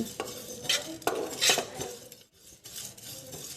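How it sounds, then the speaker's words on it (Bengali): Whole spices such as carom seeds, coriander seeds, cumin, dried red chillies and black peppercorns dry-roasting in a dry pan, with close irregular scrapes and clinks of a utensil stirring against the metal, plus faint rattling. "শুকনো খোলায় এই মশলাগুলো আমি ভেজে নিয়েছি"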